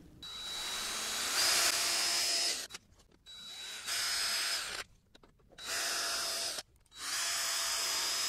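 A power drill drives screws into a bird scarer with three or four loud, close whining bursts of a couple of seconds each, separated by brief pauses.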